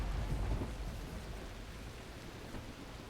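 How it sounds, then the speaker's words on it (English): Rain and distant thunder in the video game The Last Caretaker, a steady hiss of rainfall over a low rumble that fades after the first second, no voices. "Rain, distant thunder, and waves."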